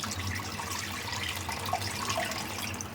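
Dissolved tamarind liquid for a Catla fish curry is poured and strained by hand, a continuous close splashing trickle of water with small drips, and no voices over it.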